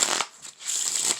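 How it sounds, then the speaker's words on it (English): Playing cards are riffle shuffled during a card trick, a quick crisp burst of fluttering as the halves interleave, with a short pause before a second flurry, close and fairly quiet. "You can do a riffle shuffle"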